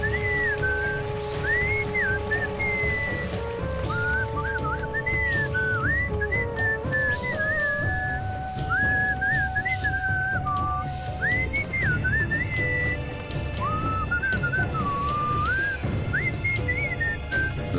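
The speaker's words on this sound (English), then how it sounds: "What is that enchanting whistling sound?" Lilting melodic whistling in the video game Sam & Max: Beyond Time and Space, a wandering tune carried over steady background music and a rain-like patter, continuous and fairly close.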